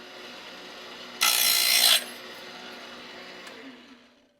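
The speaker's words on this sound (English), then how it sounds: "I'm going to use the Jim Barnes saw just to cut the pieces off" A Jim Barnes saw cuts rough pieces of metal for a model ship's bulwark: one brief, loud, close burst of rasping cutting lasting under a second, set against a quiet background.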